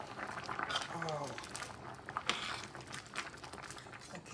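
Lentils boiling in a pot for lentil soup, a steady simmering gurgle with soft clinks, under intermittent talking.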